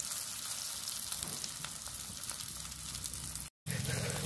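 Battered field shrimp fry in hot oil, a steady dense sizzle and crackle that carries through the whole stretch, close and fairly quiet, with a brief dropout near the end.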